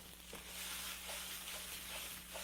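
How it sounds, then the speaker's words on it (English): Meat searing in a little oil in a hot pan, a steady broad sizzle and hiss running throughout with a faint low hum beneath and no talking. "We're going to sear this on high heat. Okay, very little oil. And you're going to hear it"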